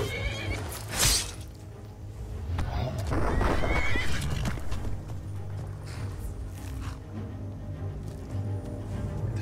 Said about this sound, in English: Y'all got a horse out here fighting.